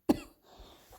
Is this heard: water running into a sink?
no